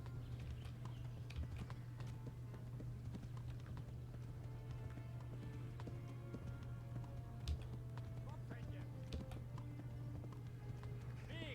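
Horse hooves clip-clop at a steady trot in the video game Kingdom Come: Deliverance, a quick even rhythm over a constant low hum and game ambience, with faint voices in the background.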